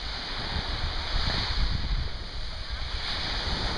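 Surf washes onto a beach on Koh Samui on the Gulf of Thailand, a steady broadband rush with swells and gusts of wind buffeting the microphone, no voices.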